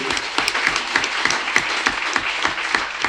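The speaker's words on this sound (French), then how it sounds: "Je voudrais vous demander d'applaudir très fort" Steady crowd applause with dense clapping throughout, loud and sustained, filling the room without pause.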